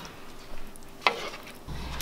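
Thai green curry meatballs get a last stir in a pan, a brief utensil scrape against gentle sizzling, with a sharper clink about midway and a louder low rumble near the end.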